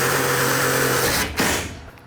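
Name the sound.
power drill driving self-tapping screws into L bracket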